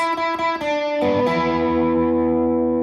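A short electric guitar phrase with a distorted tone: a few quick picked notes, then a held note that rings out and slowly fades.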